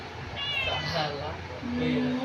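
A cat meows several times up close, drawn-out rising cries, while people talk over and around it indoors.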